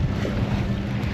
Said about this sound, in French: Bam, les vagues.